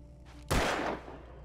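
A single sharp gunshot from the Alan Wake video game cracks out loudly with a bright burst, then rings off into a decaying tail over low background hum.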